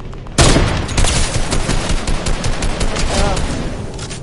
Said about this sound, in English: See if you can get any AR shots